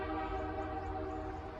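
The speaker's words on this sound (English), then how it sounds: "you're listening to the train" A train rolls past near a railway crossing beside a park, a steady close rumble with sustained horn-like tonal drones running unbroken throughout.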